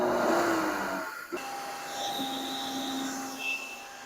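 Steady loud whirring drone of a machine blowing air to pressurize a 1976 Toyota Celica's exhaust system, with broadband hiss and shifting tonal whines, continuous throughout.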